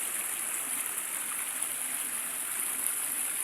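A waterfall pours in a continuous, even roar of rushing water, loud and close, with no pauses or voices.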